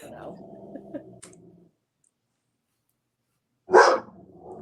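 Rosie, a pet dog, gives one sharp, loud bark after a stretch of silence, with a muffled voice and faint noise heard before it.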